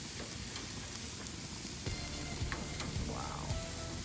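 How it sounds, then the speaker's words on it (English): Beef seekh kababs sizzle in a hot pan just after being flipped, a steady crackling fry with a few soft clinks and scrapes, close up and without speech. "So we're gonna flip the first one."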